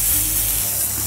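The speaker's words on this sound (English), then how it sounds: "Listen to that sizzle." Burger patties hit a hot barbecue plate outdoors, giving a loud, continuous, close-up sizzle with a bright, hissing spray of frying fat.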